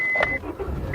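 A 2005 Acura EL (Honda Civic) starts up at close range: a brief chime-like beep, then the engine cranking and catching into a short low rumble.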